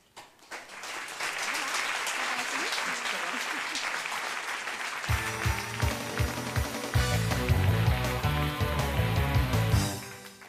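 A room full of people breaks into sustained applause at the end of a project presentation, dense steady clapping that swells and fades, with upbeat music starting underneath partway through.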